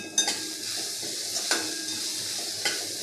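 Ground masala paste of peanuts, garlic and niger seed going into bitter gourd frying in a pan: a steady close sizzle with a few spoon scrapes and light clinks of the utensil against the pan.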